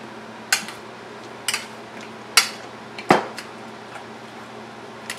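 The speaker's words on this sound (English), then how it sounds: "I'm mashing all these boiled veggies together" Boiled vegetables being mashed for pav bhaji, a masher or utensil knocking against a pan in a few sharp, irregular clanks with quiet pauses between.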